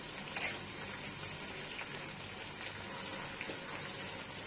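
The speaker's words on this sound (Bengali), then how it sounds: "একটু ভালো মতো নেড়ে ভেজে নিচ্ছি যাতে পেঁয়াজ রসুনের কাঁচা গন্ধটা চলে যায়" Onion, ginger and garlic paste fry in a pan with a steady soft sizzle and hiss, and a spoon scrapes and stirs with faint clinks.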